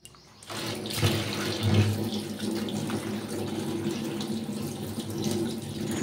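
Tap water runs steadily into a sink while small chara pona fish are rinsed, a continuous close splashing gush that starts abruptly and holds at even loudness with no talk.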